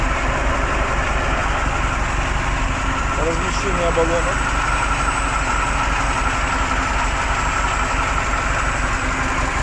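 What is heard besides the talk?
KAMAZ 8-cylinder methane gas engine idling after start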